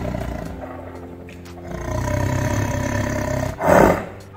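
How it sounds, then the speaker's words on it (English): A tiger gives a deep, powerful roar that swells near the end, heard up close over a rumbling low background with no talking. "Did you know that a tiger's roar can be heard up to 3 kilometers away?"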